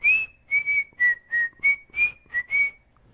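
A person whistles a simple tune in clear, close, bright phrases, about eight short notes with brief pauses between them and no talking.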